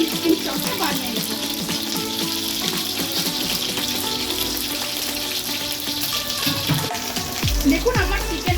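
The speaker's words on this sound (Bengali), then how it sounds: "দেখুন আমার চিকেন সব ভাজা হয়ে এসেছে।" Chicken pieces frying in a pan for garlic butter chicken, a loud continuous sizzle and crackle filling the clip, with occasional utensil clatter near the end.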